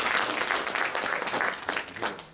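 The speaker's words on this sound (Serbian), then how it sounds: "Jedan veliki aplauz za naše goste iz Aleksandrovca i župe." Steady, close clapping from an evening audience at a Župa regional gathering in Čarapanija, greeting guests from Aleksandrovac, forms a brief, dense round of applause with no talk.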